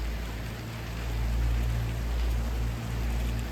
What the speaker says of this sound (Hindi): बारिश हो रही है सामने मुजफ्फराबाद में